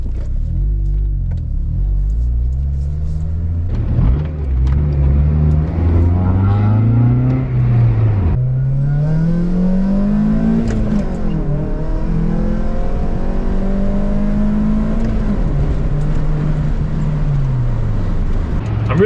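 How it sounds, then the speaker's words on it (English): A base-model Acura RSX on a test drive, its engine revving up and settling back through several gear changes, loud and close from inside the cabin, with a steady road rumble underneath. "We're gonna go on a little test drive and make sure this car is driving good."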